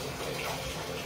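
A weak trickle of running water filling a bath, a close, continuous splashing rush lasting about a second.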